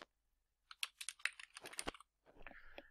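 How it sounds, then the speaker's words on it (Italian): Typing on a computer keyboard: quiet, close key clicks in an irregular run of taps, then a pause and a softer, denser patter of keystrokes, with no talking. "basta digitare in questo box"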